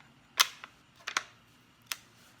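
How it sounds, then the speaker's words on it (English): Safety on a Tikka T3 rifle being worked by thumb, giving a few sharp, close mechanical clicks with short pauses between them, alone against a quiet background. "It's an easy access safety right there on the side of the scope."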